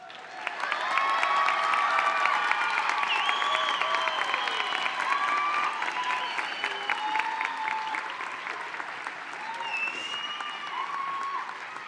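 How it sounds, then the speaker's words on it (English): Sustained applause from a large crowd at an all-girls school's graduation ceremony, with dense steady clapping and scattered cheers and whoops running the whole time, then easing slightly toward the end. "let's give our graduates another round of applause"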